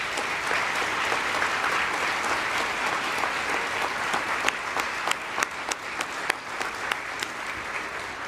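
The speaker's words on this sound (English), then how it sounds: "How about one more round of applause for our champions?" An audience applauds at the State Department's Anti-Corruption Champions Award ceremony, a steady wash of clapping across the full length with sharper individual claps standing out toward the end.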